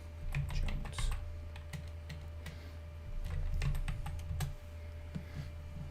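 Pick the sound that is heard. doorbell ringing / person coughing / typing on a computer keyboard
typing on a computer keyboard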